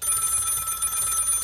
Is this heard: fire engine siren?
no